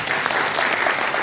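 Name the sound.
audience clapping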